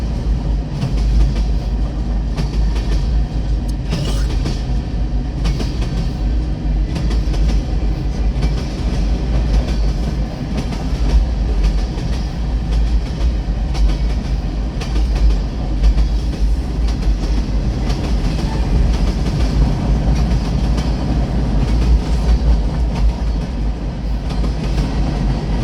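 A long freight train rolls past a railroad crossing in Struthers, its wheels clattering in steady rhythmic clickety-clack over the rails, loud and close for the whole stretch with no voices.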